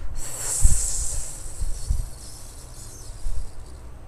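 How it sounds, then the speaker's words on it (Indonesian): A close, airy hiss of breath pushed out through the mouth like a snake's hiss during a breathing exercise, hanging briefly, with soft puffs and faint breathing noises around it. "dari mulut sedulur, seperti ular mendesis buangnya tuh."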